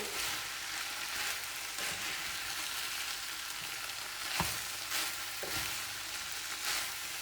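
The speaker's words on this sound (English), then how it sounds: "And then we're just going to add in our pasta and peas. And stir that in." Pasta and peas being stirred into a sauce frying in a pan, a constant soft sizzle broken by a few louder scraping strokes of the spoon.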